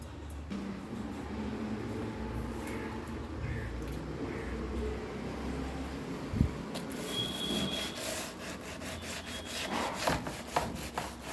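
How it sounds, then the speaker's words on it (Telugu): A brush scrubs greasy grime off the side of a kitchen refrigerator with steady, close, rasping back-and-forth strokes that run almost without pause, a few brief knocks and clicks breaking through near the end. "ఇప్పుడు ఈ బ్రష్ ఉందండి, దీన్ని బట్టి రుద్దుదాం."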